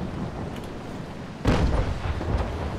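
A ship's cannon fires in the Naval Action naval battle game, one heavy booming report rising out of a low steady rumble of sea and wind, with a fainter thud trailing after.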